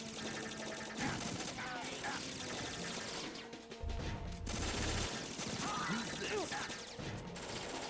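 Gunfire in Metal Gear Solid 2 crackles through a busy game scene, with scattered shots, crashes and mechanical clatter mixed under music and talking voices over several seconds.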